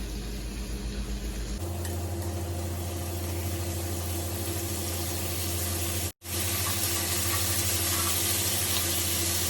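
Keto Korean bulgogi sizzles in a hot pan with sugar caramelizing, a soft steady frying hiss over a low background hum, briefly cutting out for a moment partway through, with no talking.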